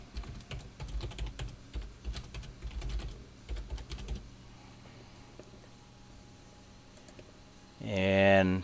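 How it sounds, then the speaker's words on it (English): Rapid, uneven keystrokes on a computer keyboard while entering text in Inkscape, close and clear for about four seconds, then quiet room tone and a brief louder burst at the end. "So I'll type out some text here."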